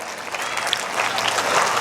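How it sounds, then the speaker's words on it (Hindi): An audience at an Islam Gymkhana gathering claps in a steady, dense burst of applause, close and fairly loud throughout, giving a standing ovation for an achievement. "आप ताली बजा रहिए, इसके हौसले को और बुलंद कीजिए"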